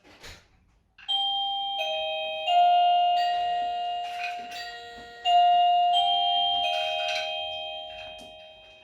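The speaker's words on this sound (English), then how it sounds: "ring the doorbell" A doorbell chimes, ringing out a sustained two-tone ding-dong twice, each tone lingering and fading, with a faint knock or thump before it.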